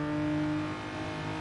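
A BMW race car in a racing video game drones steadily at high revs as it pulls away from a Hyundai on a fast section of track.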